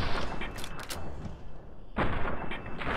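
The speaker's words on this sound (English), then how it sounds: "Let's just shoot it in the body." Gunfire from the video game Fallout New Vegas aimed at a gecko: a couple of dense, loud bursts of shots, the first running about two seconds, a short lull, then a second burst.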